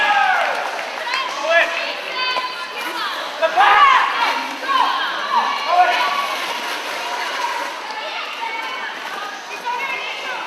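A roller derby crowd in an arena between Canberra and Brisbane teams calls out and cheers in a steady wash of many voices, rising in brief swells, with a commentator talking over it.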